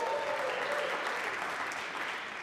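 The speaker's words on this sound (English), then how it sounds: "feel free to applaud" An audience at a college jazz and strings concert applauds, producing a steady, dense wash of clapping that holds evenly from start to end at moderate loudness.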